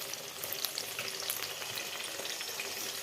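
Potatoes fry in hot oil with turmeric and salt, a dense continuous crackle and sizzle with bright spattering pops, steady and fairly close.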